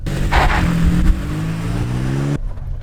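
Lifted Toyota Tacoma TRD Off Road accelerating hard on a road, its engine rising steadily in pitch through the gears, loud and close, then cutting off abruptly.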